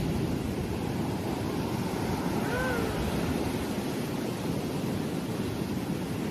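Ocean waves roll onto a beach in Rio as a faint, steady wash of surf that continues without break, with a brief high whistle heard partway through.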